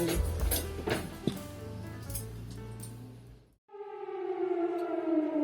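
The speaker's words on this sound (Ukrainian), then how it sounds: "Ранок починається з повітряної тривоги." An air raid alert siren wails on a morning, its steady, loud, harmonic tone rising in after a stretch of mixed household noise and a brief near-silence, then continuing to the end.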